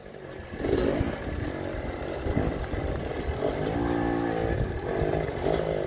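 Enduro motorcycle racing at Red Bull Outliers in Canada, its engine revving hard and surging in uneven bursts up a climb, close and loud with a rattling, buzzing edge.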